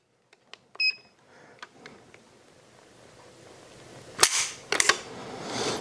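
A Sig P229 pistol's trigger pulled in double action, the hammer falling with a sharp metallic click near the end after a few smaller clicks and handling taps earlier, all close and otherwise quiet.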